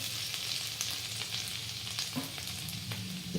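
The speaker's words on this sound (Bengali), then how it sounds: "প্রথমে গরম তেলে রসুন দেবো।" Garlic fries in hot oil for a Bengali stir-fry, a steady close sizzle and crackle with a few faint scrapes of a spatula in the pan.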